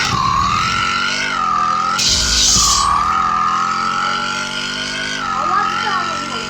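A Dodge car's engine drones in a racing video game, rising and falling as it accelerates and shifts, loud and continuous, with a brief burst of noise midway and a person talking over it.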